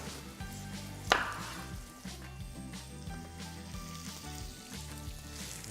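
Lamb breast caramelizes in a butter and honey mixture, a quiet sizzle under a low rhythmic background beat, with one sharp clack near the start.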